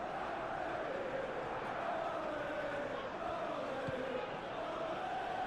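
A stadium crowd murmurs and roars steadily in the PES 2021 football game, with a soft chant drifting through and a commentator's voice over it.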